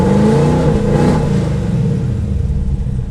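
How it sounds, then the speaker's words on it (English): A sixth-generation Chevrolet Camaro ZL1 engine revs loudly and close, rising then settling into a throaty rumbling idle, with no talk. "it's revving, so that's good"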